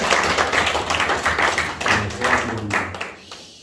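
An audience at a gospel training class claps for a few seconds, a close, uneven patter of hands that fades near the end.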